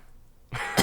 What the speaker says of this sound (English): I coughed like Jerry.